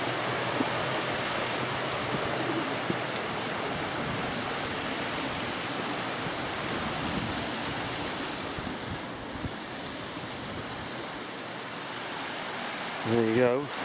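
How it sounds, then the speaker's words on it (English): A river on a Dartmoor hike rushes steadily nearby, a dense continuous wash of flowing water that stays loud and even throughout with a brief thump near the end. "There you go, we just crossed a river."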